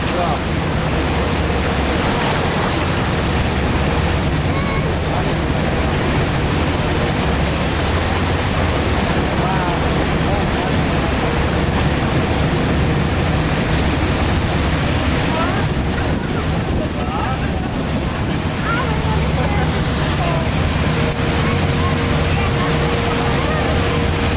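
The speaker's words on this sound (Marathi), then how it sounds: "एकदम क्लोज आलो मी रायन फॉल्सच्या." Rhine Falls roars up close as white water pours down, a loud, unbroken broadband rush with wind buffeting the microphone.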